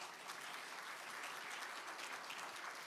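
An audience at a startup accelerator talk concert claps warmly and continuously, a dense, even patter of many hands that holds at a moderate level throughout.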